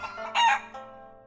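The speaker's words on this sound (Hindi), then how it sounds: "हैट में से निकला एक मुर्गा।" In a Hindi comic cartoon, a rooster pulled from a magician's hat crows once, a short loud cock-a-doodle burst over a faint steady background tone, ending quickly.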